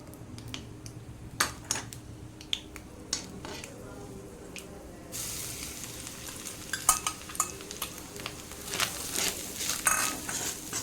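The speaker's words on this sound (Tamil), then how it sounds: "நெய்யில் இந்த கோகோனட்டை வந்து நம்ம ட்ரையாக இப்படி ரோஸ்ட் பண்ண வருது." Grated coconut dry-roasting in ghee for a banana snack, with steady scraping stirs and clinks of a spoon against the pan over a soft, rising sizzle that grows busier partway through.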